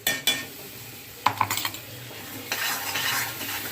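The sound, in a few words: carrot paste being fried and stirred in oil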